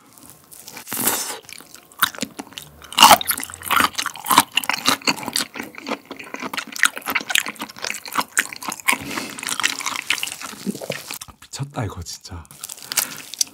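Crunchy, wet chewing of raw live black tiger shrimp sashimi, close and loud, with irregular bites and juicy squelches; a voice speaks briefly between mouthfuls.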